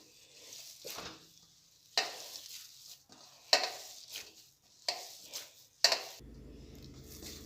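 Drained paneer kneaded by hand on a large plate makes close, soft squishing and rubbing strokes in several distinct bursts, with no talking, before a low steady hum sets in at the end.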